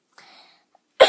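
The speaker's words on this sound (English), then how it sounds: "Excuse me, I have a cough here." A single sharp, loud cough closes the clip after a faint breathy sound, close to the microphone with no other talk.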